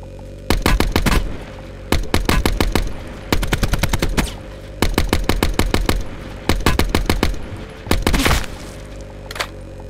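ICR rifle fire in a video game comes in repeated rapid bursts of loud, close shots, about seven volleys spread evenly with short pauses between them.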